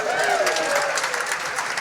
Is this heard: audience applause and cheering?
yes